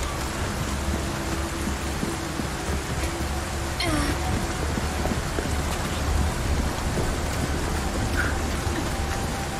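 Steady rain in the video game Resident Evil 4 Remake, a dense continuous hiss of falling drops with faint distant rumble and brief incidental game sounds mixed in.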